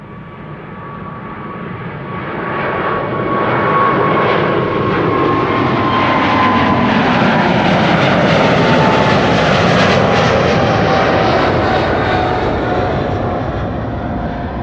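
A KLM Boeing 777-300 jet departing runway 24 at Amsterdam Schiphol, its engine roar swelling into a loud, sustained rumble and whine, then slowly easing as it climbs away.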